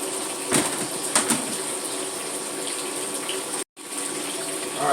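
Water siphons from an aquarium into a plastic sump bin, a steady close trickling and splashing flow with a few sharper splashes early and a brief cutoff near the end.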